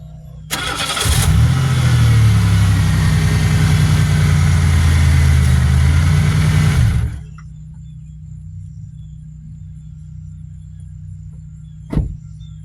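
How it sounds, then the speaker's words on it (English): A Buick's engine roars with a strained, steady whine from the power steering pump as the wheel is turned for about six seconds, then drops to a quiet idle hum, followed by a short thump. "don't turn them all the way till you hear the power steering pump lag down"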